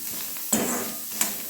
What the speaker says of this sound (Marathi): कांदा असाच भाजून घ्यायचा